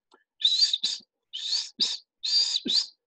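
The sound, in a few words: recorded cuckoo call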